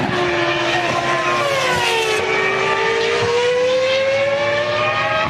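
A 2004 BMW Williams Formula 1 car at the Bahrain Grand Prix, its high-revving engine a loud sustained whine that shifts pitch as it passes close by and climbs uphill.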